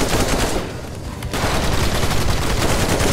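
Rapid PDW fire in a video game: loud, continuous automatic bursts fill the clip, with a brief dip just before the firing resumes at full intensity.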